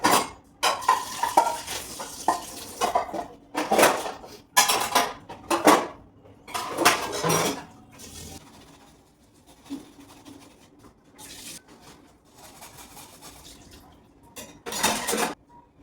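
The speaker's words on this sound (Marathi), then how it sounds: "तर हे आता मला साफ करायचं, म्हणजे भांडी घासायची थोडक्यात" Clattering dishes and cutlery being washed in a kitchen, with bursts of clinking and scraping separated by quieter running-water stretches.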